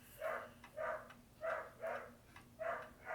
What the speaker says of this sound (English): I think the dog found a cat.